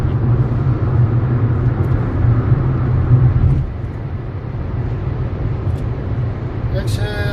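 A high-mileage car with over 320,000 km, fitted with an aftermarket turbo, accelerates hard after a kickdown, its engine and road noise a steady loud rumble heard from inside the cabin, easing slightly partway through.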